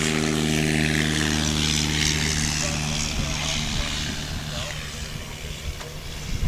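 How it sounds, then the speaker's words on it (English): A STOL airplane, a Piper nicknamed Piperzilla, throttles up for a takeoff at a scored STOL practice, the propeller engine droning loud and steady with strong harmonic hum before the pitch shifts as it lifts off, a voice faint underneath. "And Jeff Abrams on the throttle"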